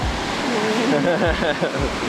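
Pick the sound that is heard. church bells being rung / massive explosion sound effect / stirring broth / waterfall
waterfall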